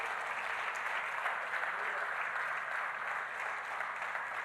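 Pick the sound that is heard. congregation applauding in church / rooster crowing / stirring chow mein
congregation applauding in church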